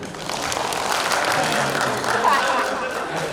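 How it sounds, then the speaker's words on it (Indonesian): An audience at a customs and excise information session breaks into steady applause that fills the room throughout. "Tepuk tangan."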